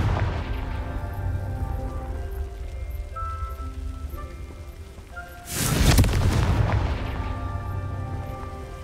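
A Confringo fire spell bursts in the video game Hogwarts Legacy as a single loud, sudden blast that stands out over steady game music and ambient noise.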